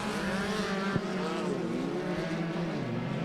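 Pro Buggy off-road race car at a Victorville short-course race, its engine roaring steadily close by with a shifting whine in pitch as it passes. The sound fills the whole clip with no break.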